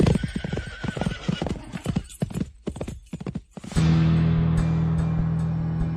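Hooves of a ridden horse clip-clop in a quick galloping rhythm, close and sharp, then fade as a steady drone and music-like tone take over.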